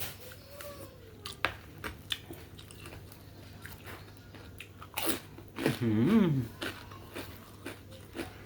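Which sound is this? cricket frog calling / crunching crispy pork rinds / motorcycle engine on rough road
crunching crispy pork rinds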